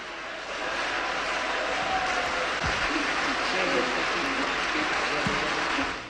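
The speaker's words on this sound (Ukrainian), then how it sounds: "Конгрес-зал Варшавського палацу науки і культури зустрів її оваціями." Sustained ovation fills a Warsaw concert hall, the Congress Hall of the Palace of Culture and Science, greeting the singer: a dense, steady wash of applause lasting several seconds, with voices mixed into the crowd noise.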